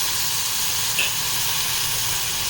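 Soy sauce hitting a hot pan of crispy fried corn with vinegar, a constant bright hiss of steam and sizzle with a brief sharper splash near the middle.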